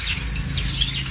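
Hand-fed yellow-sided and pineapple conure parrots in a bird shop give a few sharp, bright chirping calls over a low background hum, fairly close.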